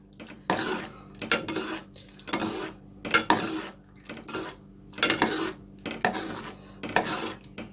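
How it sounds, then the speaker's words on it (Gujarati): A spoon stirs a thickening milk mixture in a pot for orange ice cream, making about nine rhythmic scraping strokes against the metal, each a short, bright rasp separated by brief pauses, with no voices. "આપણે આને કન્ટિન્યુ સ્ટર કરતા રહેવાનું છે।"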